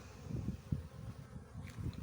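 Honeybees buzzing around a hive, a low, wavering hum from their rapidly beating wings that swells and fades in soft pulses, fairly quiet and steady.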